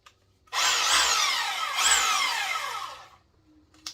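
A corded 110V SDS hammer drill with an 8mm bit runs in hammer action, one loud whining burst of about two and a half seconds with a pitch sweep partway through, then stops.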